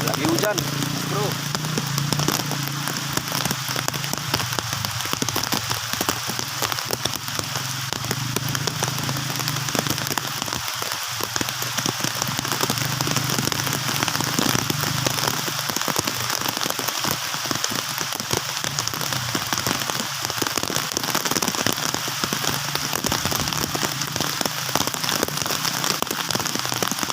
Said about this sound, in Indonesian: Lagi hujan teman-teman. Hujan.